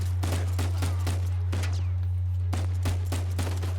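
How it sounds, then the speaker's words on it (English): Gunfire in the video game Uncharted 4 on Crushing difficulty: rapid, uneven bursts of sharp shots crack repeatedly across a few seconds over a constant low drone, with no voices. "You can usually get a headshot on one of these guys because they're so focused on Sam"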